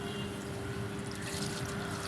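Water poured into yogurt for kadhi, a steady, soft splashing and trickling of liquid heard close and continuous, fairly quiet with a faint background hum.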